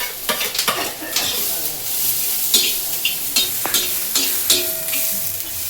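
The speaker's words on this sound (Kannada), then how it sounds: "ಫಸ್ಟ್ ಜೀರಿಗೆ ಹಾಕ್ತೀನಿ, ಆಮೇಲೆ ಉಳ್ಳಾಗಡ್ಡಿ ಹಾಕಕತ್ತೀನಿ ನೋಡ್ರಿ." Cumin seeds and onion fry in hot oil for a mango chutney, a steady loud sizzle broken by repeated scraping stirs of a spatula against the pan, with no voices.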